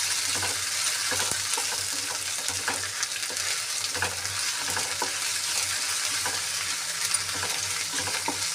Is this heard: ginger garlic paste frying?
yes